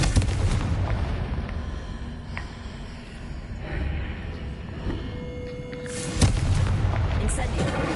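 Confringo fire-spell explosions in Hogwarts Legacy, heard as rumbling booms over a busy game background, with a sharp, louder blast near the end.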